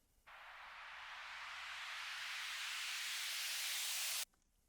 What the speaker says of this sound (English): Add a reverse white noise riser.